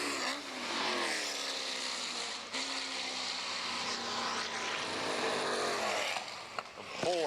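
A big 8.3 or 8.5 litre Chevy race car engine winds up along the back of a circuit. It gives a continuous loud roar with a rising, sweeping pitch, at some distance, and a brief sharper burst near the end.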